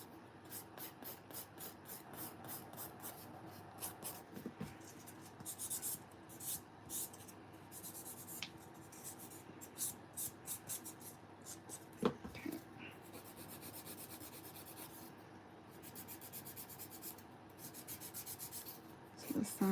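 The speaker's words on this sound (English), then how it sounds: "So doing your normal filing and the shaping." A hand file works a gel nail extension during shaping, a faint, close scratching in short repeated bursts with small pauses, fairly quiet throughout.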